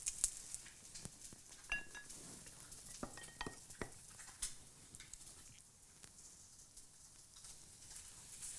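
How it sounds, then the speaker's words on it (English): A fried egg cooking in a pan on a kitchen stove: a faint, soft sizzle with light scattered clicks and taps of utensils and cookware, quiet and close, with no talking. "I've got that fried egg cooking over there"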